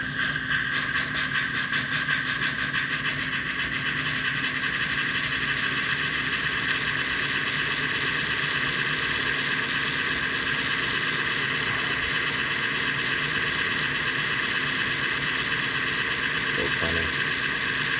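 American Flyer toy train smoke unit, fan driven, running at 13 volts, giving a steady mechanical whir and hum with a faint rhythmic chug that carries unchanged throughout at close range.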